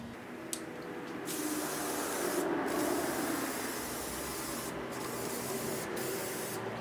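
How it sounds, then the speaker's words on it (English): Spray shellac wood finish hissing steadily from an aerosol can onto wood, a continuous close spray broken by a few short pauses, with no talk. "this is a spray shellac"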